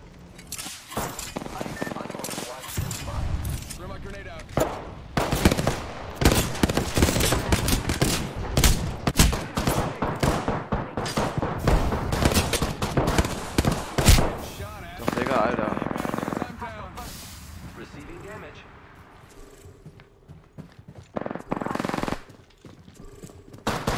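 Dense bursts of automatic gunfire and single shots from a video game fill the clip, loud and nearly continuous with short lulls, while a player talks over the action.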